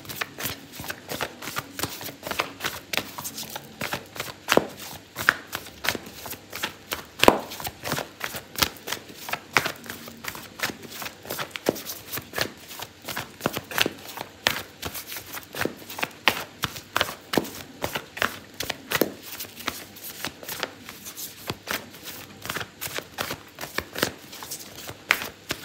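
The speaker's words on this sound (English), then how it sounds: "I'm gonna pull out an oracle card for you" An oracle card deck is shuffled over and over in quick, papery riffles and slaps, a close, rhythmic run of sharp card flutters that continues for a long stretch with no speech.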